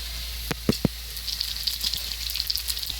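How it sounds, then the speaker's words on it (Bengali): Whole cloves, cinnamon, cardamom and cumin sizzling in hot oil, a few sharp taps as they drop in, then a close crackling sizzle with small pops, under a low steady hum, with no talking. "তেলটা গরম হয়ে গেছে, এবার দিয়ে দিব ফোড়ন।"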